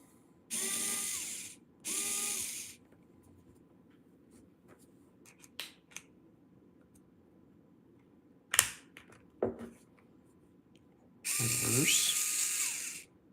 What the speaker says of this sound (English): Electrical screwdriver.